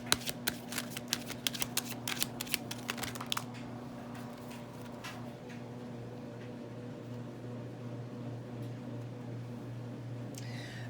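Tarot cards shuffled with a burst of crisp riffling flicks for a few seconds, then a quiet stretch of handling over a steady low hum, with no talking.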